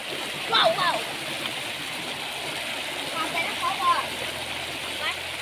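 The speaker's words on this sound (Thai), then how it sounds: "อันนี้บรรยากาศน้ำตกนะครับ น้ำตกเล็กนะครับ" Steady rushing of a small waterfall fills the scene, with a few faint bird chirps above the constant water noise.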